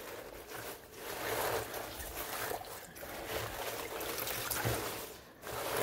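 Mustard greens are washed under running water, a steady broadband splashing and trickling close by with brief swells and dips as the leaves are turned under the stream.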